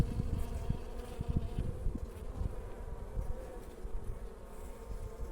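Dense, steady buzzing of many honey bees close by at an open hive during early spring inspection, a soft continuous hum with occasional louder passes as individual bees fly near.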